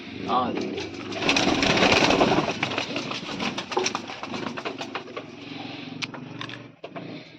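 Soft pigeon coos come through alongside rustling and nearby chatter, a low throaty burble repeating under the talk.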